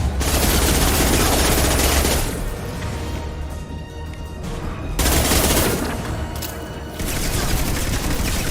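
Sustained automatic gunfire in the video game Mass Effect 2, loud and dense, with rapid bursts of shots and impacts that ease off briefly mid-way and then resume.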